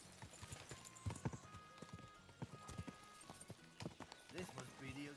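Horse hooves clip-clop in a steady, uneven rhythm close by, with occasional neighing and people talking over the hoofbeats.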